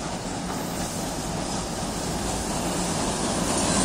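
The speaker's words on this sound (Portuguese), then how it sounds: "Está vindo mais um trem" A Supervia Series 3000 electric commuter train bound for Japeri passes close by, giving a loud, steady broadband roar of wheels and rushing air that holds for the whole stretch and swells slightly toward the end.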